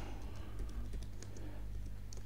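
Light, quick keystrokes on a computer keyboard tap out a typed prompt, close and steady over a low constant background hum, with no voices.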